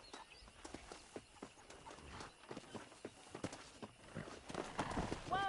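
Horses in the Red Dead Redemption video game clip-clop across open ground in a steady hoof rhythm, with an occasional whinny near the end, while a voice speaks over them.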